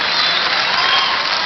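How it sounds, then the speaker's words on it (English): Big crowd applauding at a 1992 Long Beach vs West Valley semifinal basketball game, a loud, unbroken wash of clapping filling the whole moment. "Big crowd here tonight."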